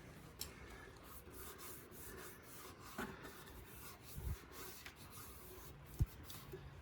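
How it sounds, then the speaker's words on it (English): A cloth soaked in alcohol wipes the tank of a Can-Am Spyder with soft, faint rubbing strokes. A few light taps and clicks come through close by, and no one speaks. "you're going to use alcohol to clean both sides of the tank"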